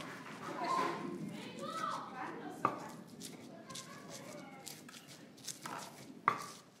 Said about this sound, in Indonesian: Ini kita ulek dulu.